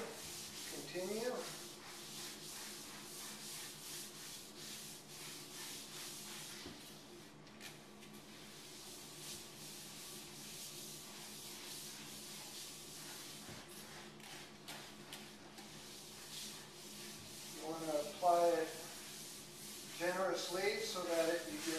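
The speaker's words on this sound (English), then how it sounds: "by rubbing it with your hand, you're pushing it down into the pores, making sure you get the whole thing" A hand rubbing granite sealer into a stone countertop surface gives a soft, continuous brushing hiss with faint squeaky skin-on-stone friction bursts near the start and end, quiet overall.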